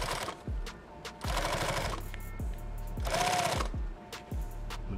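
A sewing machine stitches a Thermacell pouch in several short, loud, rattling bursts of rapid needle strokes, separated by brief pauses and small clicks, heard up close.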